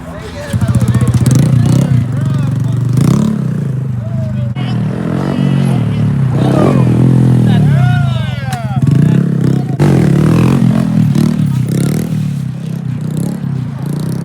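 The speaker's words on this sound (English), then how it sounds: "All types of bikes out here" A large group of motorcycles on a New Year's ride, engines revving and roaring up and down close by in a continuous loud rumble, with people talking over the noise.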